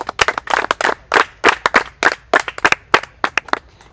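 A small audience claps in a brisk burst of uneven, closely spaced hand claps at a children's event in the DRC, loud and close, with no talking over it.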